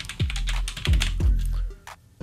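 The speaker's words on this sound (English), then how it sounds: "enter a password and re-enter that over here as well" Keys clack on a computer keyboard as a password is typed in: a few sharp, close keystrokes in an uneven rhythm, fairly loud and heard alone.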